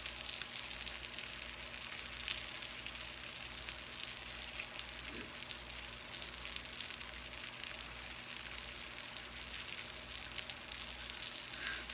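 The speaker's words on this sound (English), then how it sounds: "Let's do a fried egg right there. It's already got enough butter" Egg frying in butter in a pan gives a steady, soft, even sizzle and crackle that continues without a break, with no talking.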